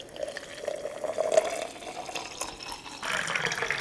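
Water poured from a container into a scoop of pre-workout powder, a steady close trickle that swells midway and turns brighter and splashier near the end, with no talking.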